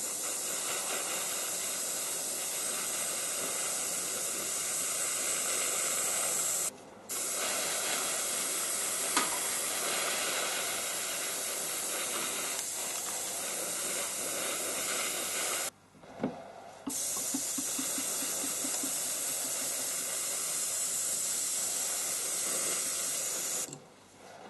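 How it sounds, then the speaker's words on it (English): An airbrush sprays paint onto Gunpla model parts for a 1/72 Sinanju, giving a long, steady hiss broken by two short pauses and ending in a third. "I'll be doing a little bit of airbrushing as I go"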